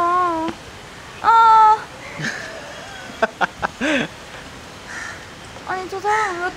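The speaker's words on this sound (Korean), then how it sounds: "아니 저 사람 왜 까마귀를 모은 거야?" Crows caw in rough, harmonic bursts at a Kathmandu, Nepal spot, with a few calls spread across the stretch amid scattered clatter, while people chat nearby.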